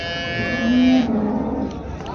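A cow moos once, loud and close, at a cattle market in Erode, with a drawn-out, low bellow over a busy outdoor background hum.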